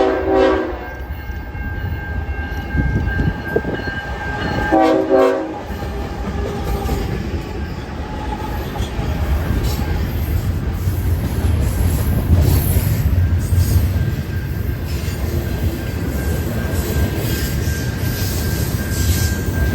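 A long freight train led by BNSF SD70MACE locomotives rumbles past at close range, a continuous loud roll of wheels with clattering, screeching squeals and a brief horn-like tone early on.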